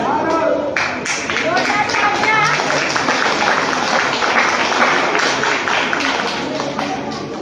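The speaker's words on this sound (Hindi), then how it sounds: "तालियां जोरदार बनती हैं।" An audience applauds after a performance at a women's and children's program for India's 75th independence anniversary, producing sustained, loud crowd clapping with voices mixed in throughout.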